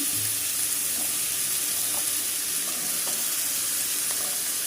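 Vegetables fry in a pan with steady sizzling, a constant hiss with occasional soft stirring clinks, close and fairly loud.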